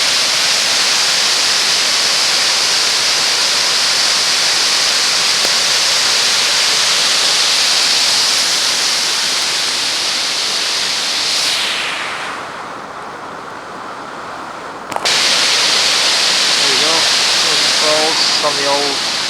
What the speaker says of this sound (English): So this is Rogie Falls in all its glory.